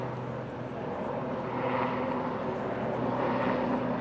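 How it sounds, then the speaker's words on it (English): Helicopter passing overhead at a field hockey game, a faint, steady rotor and engine drone that grows slightly louder toward the end, heard from a distance. "so you got a little bit of a helicopter there"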